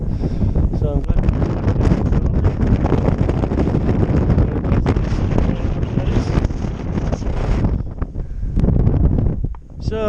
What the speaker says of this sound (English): The wind's fairly starting to pick up now